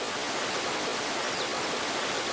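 Steady broadband rush of a river flowing in the video game Dark Cloud, a continuous even water wash with no voices, holding constant at moderate level throughout.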